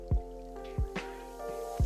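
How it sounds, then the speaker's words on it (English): Thick bitumen paint plops and drips in a few slow, heavy globs, each a soft wet splat, over a steady low hum. "And try to pour a little bitumen paint."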